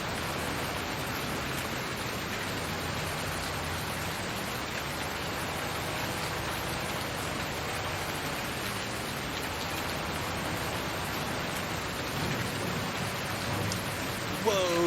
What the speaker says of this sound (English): Yes, we're actually getting rain.